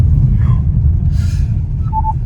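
A 2020 Peugeot 3008 sounds a short blind spot warning chime inside the cabin, a brief pair of tones over low steady road rumble.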